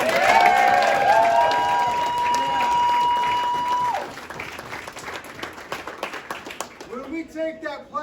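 A political rally crowd applauds and cheers loudly for several seconds, the clapping dying down as a voice comes over a speaker system and scattered claps continue.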